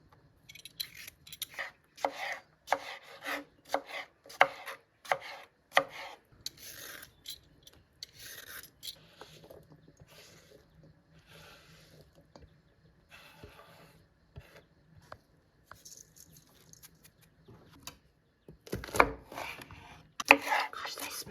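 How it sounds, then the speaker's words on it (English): Cucumbers being peeled for gazpacho, their tough skins rasped off in quick repeated strokes, near and fairly quiet, with brief pauses between bursts and a louder flurry toward the end. "I'm going to peel my cucumbers because the skin's a bit tough."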